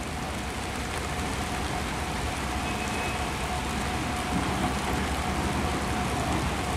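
Heavy rain pours steadily at the scene of a bridge collapse accident at Phong Chau bridge, a dense unbroken hiss of falling water with no voices.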